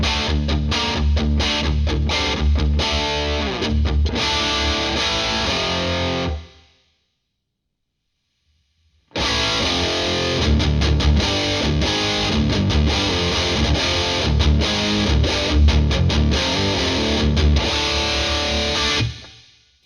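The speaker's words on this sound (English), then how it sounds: "Let's take a distortion 1, a DS1 probably" Electric guitar driven through a Boss DS-1 distortion pedal into a Lava Studio desktop amp, loud and saturated riffing that cuts off abruptly for about two seconds of silence, then resumes with dense crunchy chords until the end.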